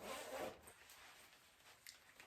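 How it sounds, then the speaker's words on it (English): A zipper pulled up on a slightly longer-cut moto jacket, a quiet rasping zip in the first half second followed by soft fabric rubbing and faint small clicks. "So there it is, zipped. And I could zip it all the way up."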